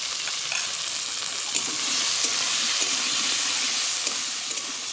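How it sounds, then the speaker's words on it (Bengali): Cut eggplant pieces frying in oil in a pan, a steady bright sizzle with scattered small pops and crackles, close and continuous without speech. "এবার কেটে রাখা বেগুনগুলো ভেজে নেব"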